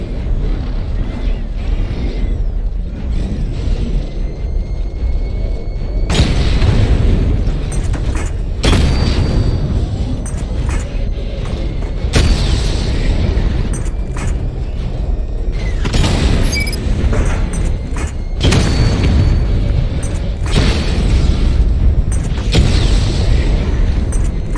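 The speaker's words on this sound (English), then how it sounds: "Charge up missile barrage to level 2 and destroy 4 active targets to complete diagnostic test." Missile barrage explosions in the video game Batman: Arkham Knight, a run of heavy booming blasts in bursts a few seconds apart, loud and close over a rumbling background.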